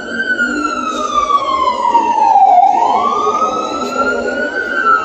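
An FDNY ladder truck responding to a car fire sends out a loud, close wailing siren that slides down in pitch, dips and rises again, with road and engine rumble underneath.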